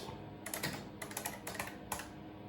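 Clacky keystrokes on an Olivetti ANK 2463 keyboard, an IBM Model F design, come in a few quick bursts of typing with short pauses between them, close and fairly quiet with no talking.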